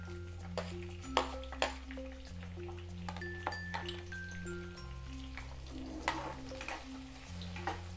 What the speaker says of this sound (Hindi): तेल में फ्राई कर लेंगे लाल होने तक।